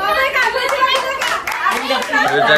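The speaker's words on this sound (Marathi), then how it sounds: "टाळ्या टाळ्या" People at a family home gathering clap their hands in quick bursts, mixed with lively chatter, children's voices and chuckling nearby.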